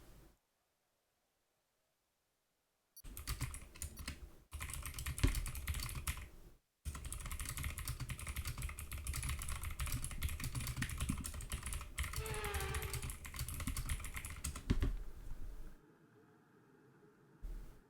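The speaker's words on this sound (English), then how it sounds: "Can I tell you that the keyboard sounds very nice?" Rapid clacky keystrokes on a TechNet computer keyboard come in bursts with short pauses, close and crisp, while a low hum runs beneath.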